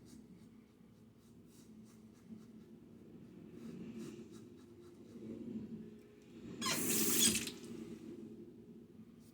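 A safety razor with a Gillette Nacet blade drawn across the face on a cross-grain pass, giving faint soft scraping strokes that build gradually, then a brief louder rush of running tap water near the end.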